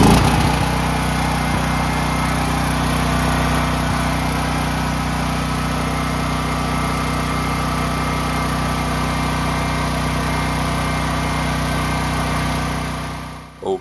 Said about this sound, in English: Okay, so the generator is running